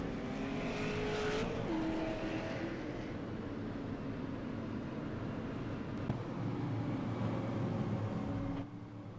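Race cars lapping Irwindale Speedway, a constant roar of engines with cars sweeping past, swelling and fading, heard from a distance without voices.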